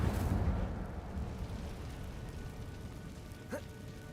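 An Incendio fire spell cast in Hogwarts Legacy: a rumbling whoosh of flame bursts at the start and decays into a low roar, loud and near, with no talking.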